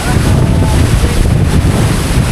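Strong wind buffets the microphone in a steady, loud roar of low rumbling gusts, with a wash of surf-like noise behind it.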